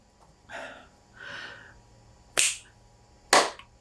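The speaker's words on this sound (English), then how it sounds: "I will then do that thing where I clap my hands and then I'll pause a little bit." Two sharp, close hand claps land about a second apart, following a couple of soft breathy noises, in a quiet room.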